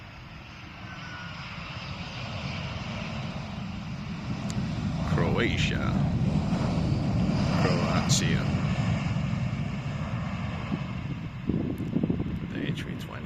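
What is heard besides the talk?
Embraer E175 airplane landing at Amsterdam Polderbaan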